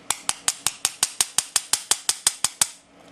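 A bump key is struck repeatedly into a Master Excell disc lock, about fourteen sharp metallic taps at an even quick pace, close and crisp, then silence.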